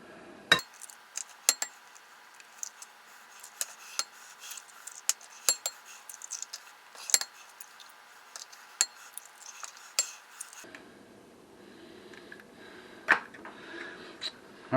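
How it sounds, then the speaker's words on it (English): Eight eggs are cracked into a bowl, heard as a series of sharp, close clinks and taps spaced irregularly, with faint shell and glass sounds between them, fairly quiet overall. "So we're going to start with 8 eggs. Get those cracked into our bowl here."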